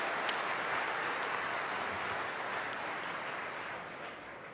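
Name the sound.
audience applause for the speakers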